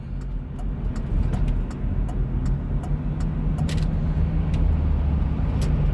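A car on the road gives a steady, moderately loud hum of engine and tyre noise that holds evenly throughout, with no voices.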